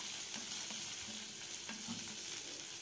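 Spice tempering with fresh coriander leaves sizzling in hot oil in a pan, a continuous dense crackle with light stirring scrapes.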